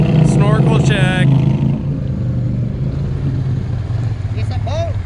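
Engine idling with a steady low rumble throughout, close and fairly loud, with a couple of brief higher whines, while people talk over it.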